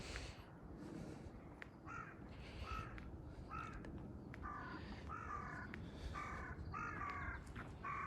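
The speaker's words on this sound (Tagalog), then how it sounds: "mga ibong lumilipad" Crows caw repeatedly in the distance, a series of short harsh calls over a low background rumble.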